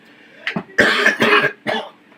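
Several harsh coughs in quick succession, close and loud, a short burst followed by a couple more hacking coughs, with no speech.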